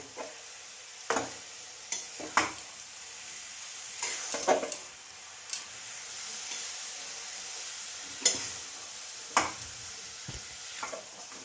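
Coconut and jaggery cook in a pan under a soft steady sizzle, broken by intermittent scraping knocks of a spoon stirring at an unhurried pace.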